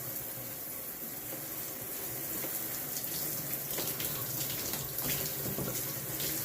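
A home shower runs continuously: a close, steady rush of spraying water with slight splashing changes over the spray, and no voices.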